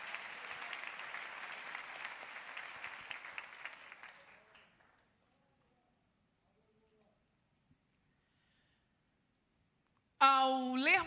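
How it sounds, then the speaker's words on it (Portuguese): A church congregation applauds steadily for several seconds, then the clapping fades into silence before a single voice begins speaking at the end. "Você consegue aplaudir ao Senhor pela sua palavra nesta noite?"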